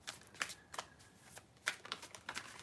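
Playing cards riffle-shuffled in several short crackling bursts, close and fairly quiet, with brief pauses between attempts and no talk.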